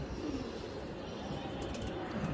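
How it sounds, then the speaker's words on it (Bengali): Pigeons kept by pigeon fanciers in Old Dhaka coo faintly beneath a steady wash of outdoor background noise. "যে একটা কবুতর উপরে আসছিল উপর থেকে নামলো মাত্র"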